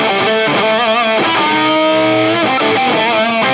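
Electric guitar played through a distortion pedal in front of an amp, a gritty, ratty overdriven tone sustaining bending notes and short phrases, loud and close.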